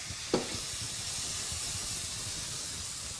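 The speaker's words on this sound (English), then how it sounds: "we're just going to dump and go. About a tablespoon of mirin, a tablespoon of oyster sauce, a teaspoon of sesame oil" Mirin, oyster sauce and sesame oil tipped into a hot pan give a steady, broad hiss and sizzle after a short splash at the start, close and continuous.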